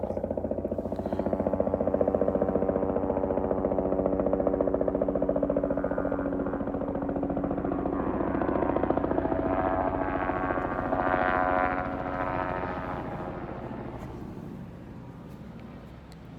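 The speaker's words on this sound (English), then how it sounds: "oh wow, I can see the helicopter." A helicopter flies overhead, its steady rotor chop and engine drone swelling as it passes nearest, then slowly fading as it moves away, heard alone without talk.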